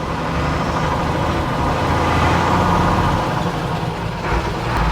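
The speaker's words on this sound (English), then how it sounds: "The smell of the diesel, sound of the engine." An old diesel truck engine idles close by, a loud, steady low rumble with a rough, chugging texture throughout.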